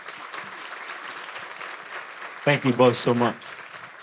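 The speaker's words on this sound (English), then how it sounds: "let's give Austin and let's give Brooke a round of applause" Audience applause for presenters Austin and Brooke at a board of directors institute event, a steady broadband patter that runs through most of the clip before a speaker briefly talks over it near the end.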